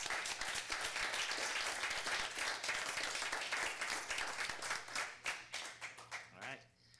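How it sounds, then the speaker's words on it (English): Applause at a city council regular meeting honoring a returning chief: steady clapping from a seated audience fills the room, then thins into scattered claps and fades out toward the end. "let's give him a round of applause for this"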